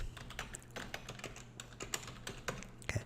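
Typing on a computer keyboard, a quick irregular run of close key clicks and taps with a steady low hum underneath, no voices.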